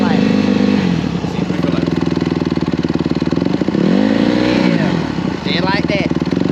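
Dirt bike engine revving as throttle is given, a loud close buzzing motor with repeated rising and falling revs and a quick blip near the end.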